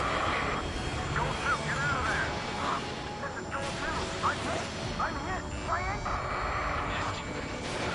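Jet fighters roar past in the Ace Combat 7 flight combat game, a fluctuating engine rush under overlapping radio chatter and scattered sharp effects.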